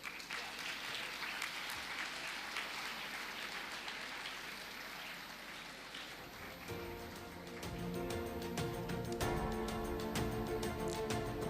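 A large audience at a scholarship award ceremony breaks into sustained applause, a dense wash of clapping that carries on for several seconds and grows fuller and louder toward the end, with no talk over it.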